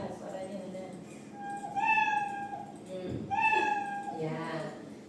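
A cat meow sound effect played from a coding program in a school classroom, two clear drawn-out meows close together, with people talking around them.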